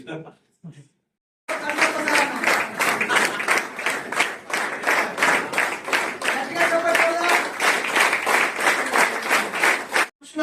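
An audience claps and applauds at a self-respect wedding ceremony, sustained dense clapping near and loud after a short spoken opening, continuing steadily to the end.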